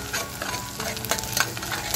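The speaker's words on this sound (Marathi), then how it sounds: "चरबी आहे ना तेलामध्ये अशी मस्त फ्राय झाली पाहिजे, म्हणजे ती फुलली पाहिजे।" Mutton fat frying in hot oil, a steady close sizzle and crackle with a few sharper pops and spoon scrapes throughout, no voices.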